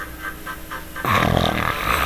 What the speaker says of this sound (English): Snoring up a storm, I reckon.